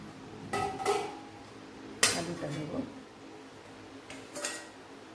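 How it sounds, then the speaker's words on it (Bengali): Potatoes going into a cooking pan while making a palak and vegetable dish: a few close metallic clanks and scrapes of pan and utensil, with a louder clatter midway. "এবার এর মধ্যে আলুটা দেব"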